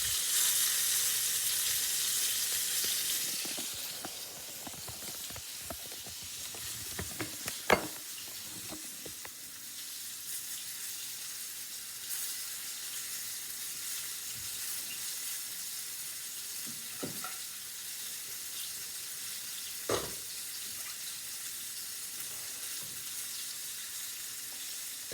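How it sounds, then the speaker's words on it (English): Chicken sizzles steadily in a hot pan, a soft continuous frying hiss with a few faint clinks and stirring sounds. "You can see it's just frying right up"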